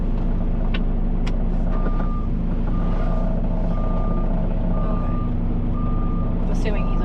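Repeated high reversing beeps sound at a steady rhythm from a truck backing a fully loaded trailer, carried over a constant loud engine rumble, with occasional faint voices.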